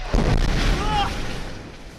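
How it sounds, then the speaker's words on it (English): An airstrike explosion during the fighting in Raqqa, Syria, a single heavy boom with a deep rumbling tail that fades over about two seconds. "Again, an airstrike is called in."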